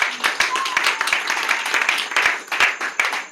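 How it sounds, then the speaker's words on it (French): Congregation applauding in church, with a lively burst of many hands clapping at close to mid range. The claps are distinct, quick and somewhat rhythmic, and a few voices rise over them. "Est-ce qu'on peut applaudir pour la parole de Dieu?"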